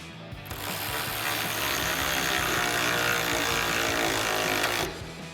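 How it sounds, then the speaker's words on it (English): Bumper mounting hardware on a 2021–2023 Ford F-150 is tightened with a 10 mm socket on a ratchet. The pawl gives a fast, continuous close-up clicking that runs for about four seconds and then stops. "tighten this hardware down using our 10 mil socket on our ratchet and a 10 millimeter wrench"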